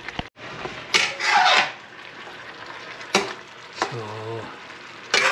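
Kare-kare stew with beans stirred in a frying pan to keep it from sticking, bursts of spatula scraping and rubbing against the metal over a low sizzle, with a few brief spoken words.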